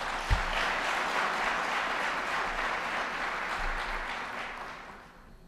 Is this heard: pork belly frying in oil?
no